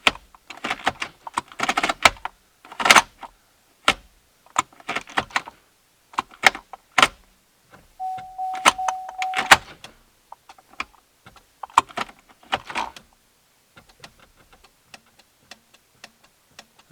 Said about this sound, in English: That's the solenoid clicking.